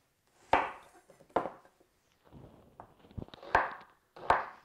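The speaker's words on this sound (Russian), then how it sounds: "Первым делом мы нарежем лук." A knife chops onion on a cutting board while soup is being prepared, a few sharp, close knocks in an uneven rhythm with short pauses between strokes.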